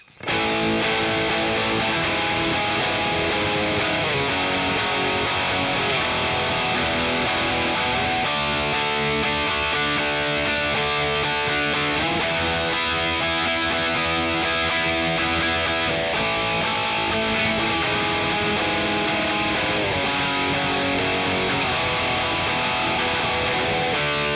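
A distorted electric guitar plays the final chorus of a song, with loud, continuous power-chord strumming and shifting chord changes throughout, without any voice.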